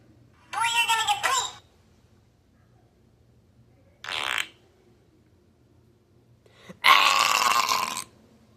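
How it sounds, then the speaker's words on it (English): Cartoonish fart noises come from the Talking Tom cat mobile game, in three separate loud bursts with silent gaps between them, the first with a buzzy, voice-like wobble. "This look like a fart."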